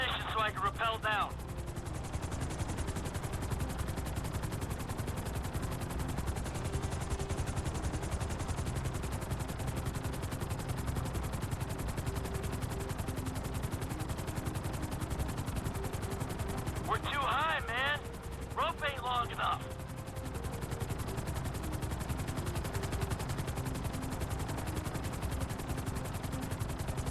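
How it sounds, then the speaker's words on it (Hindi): A helicopter in the video game GTA 5 gives a constant, muffled rotor drone throughout. Two short bursts of gunfire cut in early and again later in the clip, and speech is present in places. "ट्रेवर तो मुझे लग रहा है बस हेलीकॉप्टर में मतलब कंट्रोल करेगा"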